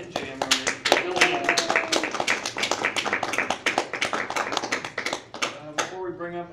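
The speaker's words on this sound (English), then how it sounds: "A double round of applause for both Daria and J.M. Roman." Audience applause for two performers, Daria and J.M. Roman, at a live show: a steady patter of many hands clapping nearby, with a voice briefly audible near the end as the clapping dies away.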